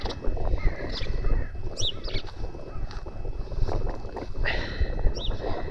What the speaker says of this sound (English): All these wee birds.